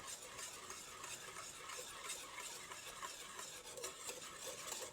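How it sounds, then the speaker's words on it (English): A spoon stirs oil-free, gluten-free vegan pumpkin bread ingredients together in a bowl. The scraping and swishing is steady and unbroken, quiet and close, with no voices. "So we're gonna stir these ingredients together."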